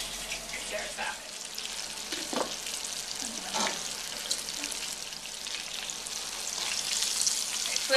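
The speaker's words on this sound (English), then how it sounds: "you hear that sizzle?" Chicken pieces sizzle and crackle steadily as they fry in a hot pan for kosher home cooking, a continuous bright hiss with a few clinks of stirring or turning.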